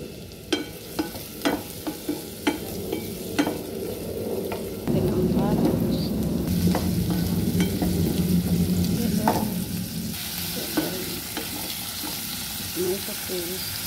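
Onion sizzles in melted butter for a pork roast sauce, a soft frying hiss that swells midway, with scattered clicks and stirring scrapes from the pan.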